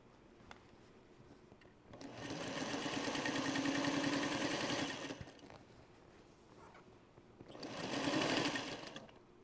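Sewing machine stitching binding onto a Trellis Garden quilt, running in two sustained bursts of steady rapid needle whir, the first longer, separated by a quiet pause with faint handling noises.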